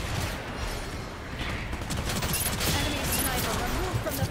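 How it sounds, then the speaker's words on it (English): Sustained rapid gunfire in the mech shooter Gundam Evolution, a dense, continuous rattle of shots with a steady roar of battle behind it. "I should not be shooting at this range, but I am."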